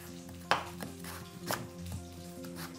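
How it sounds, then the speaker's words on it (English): A knife chops a potato-like vegetable into very thin slices on a board, a few sharp, separate chops spaced about a second apart, close, over a steady background hum. "So I'm chopping it really thin slices."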